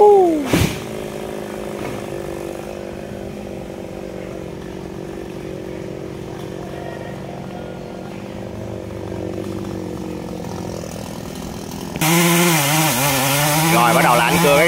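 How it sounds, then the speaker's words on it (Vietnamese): A chainsaw cuts the top of a khaya tree with a steady buzzing drone at moderate distance, then revs up sharply and loud near the end. "Rồi bắt đầu là anh cưa cái ngọn đó, đó các bạn."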